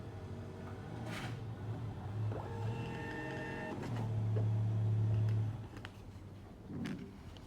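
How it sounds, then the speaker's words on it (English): A POS receipt printer whirs through a receipt, its motor buzzing in stretches with a louder, sustained feed near the end, faint and close in a quiet room. "now we can click on done print receipt, and it will start printing the receipt"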